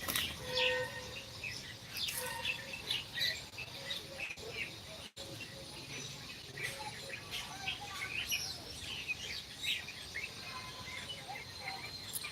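Several mynas and a bulbul chirp and call over one another, with busy overlapping tweets and harsh chatter against a faint insect-like background.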